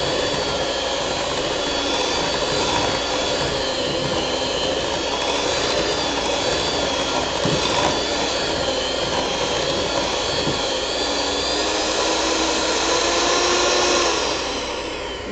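Electric hand mixer beating almond flour cookie dough, a steady whirring motor drone held close and continuous, with no talk.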